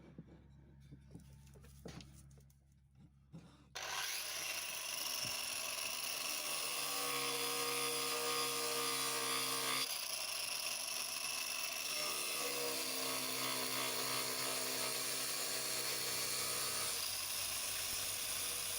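Power tool cutting freehand into a rusty old camping axe, a loud, sustained high-pitched grinding whine that starts abruptly after quieter workshop noises and holds steady, briefly dipping midway.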